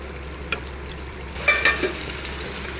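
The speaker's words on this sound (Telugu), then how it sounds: "ఇంకో ఈ నీరు పోయే వరకు ఉడికిద్దాం" Green chicken gravy simmers in a pan, a soft steady bubbling hiss broken by a few close, light clinks and scrapes of stirring.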